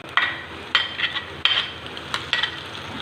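A spoon stirs eggs in a frying pan for khagina, an egg bhurji–style scramble, scraping in four or five quick strokes that repeat over a low steady sizzle, close and moderately loud.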